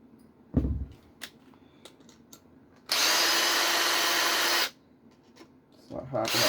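A power driver runs a 30mm screw into the shock tower of a Losi 22S drag RC car, one steady whirring burst of about two seconds between quieter handling clicks and taps.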